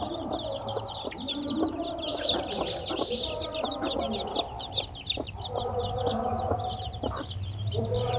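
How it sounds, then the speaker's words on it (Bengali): A mother hen clucks repeatedly close by while her chicks peep and chirp around her, a busy overlapping chatter of farm poultry with a low background hum. "দেখেন মা মুরগি দেওয়ার সঙ্গে সঙ্গে বাচ্চাগুলো তার কাছে যাচ্ছে"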